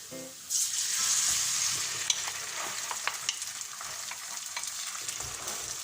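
Homemade tomato sauce bubbles in a pan as it goes into a vegetable lasagna, giving a steady close sizzle with small scattered pops and a brief louder crackle at the start, and no talking.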